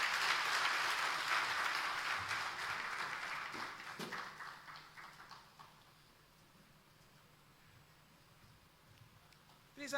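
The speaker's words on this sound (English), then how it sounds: "Please, another warm round of applause for Mr. Tony Elumelu, CFR." An audience claps warmly after a speech at a public wealth management event. The applause is dense and loud at first, then trails off into near silence within about six seconds.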